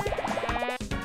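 In the video game Pikuniku, water bubbles and fills with a quick, rising series of glugging pulses, close and fairly loud, breaking off briefly near the end, with no voices.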